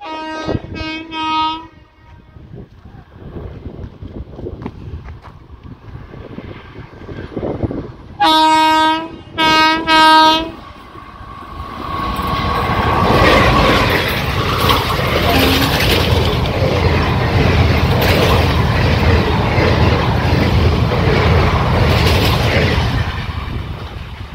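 A Nagore–Thanjavur passenger train sounds its horn in a short blast, then two longer blasts, before its carriages roar past close by with rumbling, clattering wheels that stay loud to the end.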